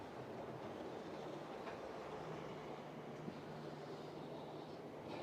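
A model train runs along its track, giving a steady rolling rumble with light clickety-clack and a few faint squeaks, continuous and fairly close throughout.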